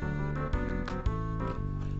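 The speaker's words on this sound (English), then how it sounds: "Some good lounge music." Lounge music from the Earthbound video game, a smooth, steady instrumental loop with soft bass notes and mellow chords, playing on its own with no talk at a moderate level.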